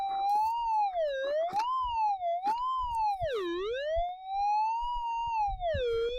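A metal detector pinpointer searching for gold gives a loud, continuous electronic tone that warbles up and down in pitch like a siren, swooping low and rising again as it sweeps the target, with faint handling noise below.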